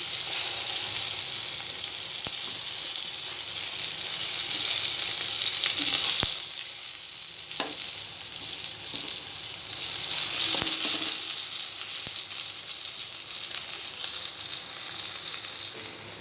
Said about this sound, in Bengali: দেখো বেগুনগুলো আমার ভাজা হয়ে গেছে